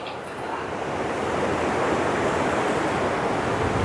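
The Lakshman Ganga, a fast-flowing mountain river, rushes in a loud, steady broadband roar that swells slightly and holds constant throughout, close to the water.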